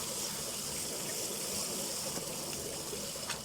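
Water drains from a basin at a public carpet-washing station in Finland, a steady, close rushing gush with a light trickling edge and no voices.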